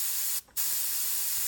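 An airbrush sprays opaque orange paint close to the surface while freehanding a photorealistic sunset, a loud steady hiss broken by one short pause before resuming, with no talk.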